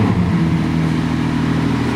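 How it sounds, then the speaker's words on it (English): Twin-turbo V6 of a 2022 Ferrari 296 GTB hybrid running close by, a steady low idle hum with even engine tones and no other sounds. "If I press the checkered flag, it's going to be in performance and the engine will start up."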